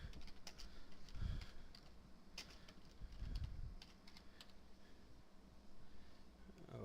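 Light, rapid keystrokes on a computer keyboard as a spreadsheet sheet name is typed, quiet and close with soft pigeon-like cooing and low room noise behind.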